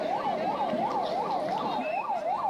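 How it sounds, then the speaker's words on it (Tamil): An ambulance siren wails in a steady rising and falling cycle, fairly loud and continuous, over a low rumble of road traffic. "ஆம்புலன்ஸ் தான், கொஞ்சம் வழி விட்டுருங்க"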